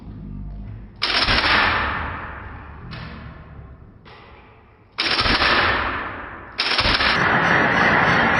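Training simulator weapon mock-ups with pneumatic recoil firing, several loud bursts of sharp hissing blasts separated by brief gaps, close and dominant.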